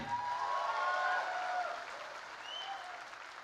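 Crowd applause breaks out at a Tiprasa cultural festival in Bangalore, a dense steady wash of clapping that is loudest early and eases slightly toward the end, with faint cheering woven through.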